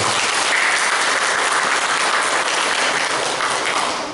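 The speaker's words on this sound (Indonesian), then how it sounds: "Tepuk tangan dengan Tuhan." A church congregation claps their hands together in steady, dense applause during a worship service, loud and continuous throughout before easing off slightly at the very end.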